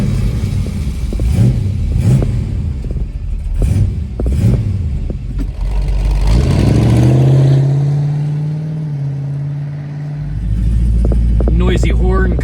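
A 1970 Dodge Challenger R/T convertible pulls away and drives, its engine rumbling low and steady and rising in pitch as it accelerates, with someone talking over it through much of the run.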